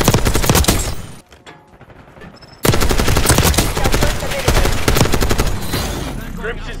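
Call of Duty Black Ops 6 gunfire, loud rapid automatic bursts, close and dense, broken by a short lull before the firing resumes with voices heard under it.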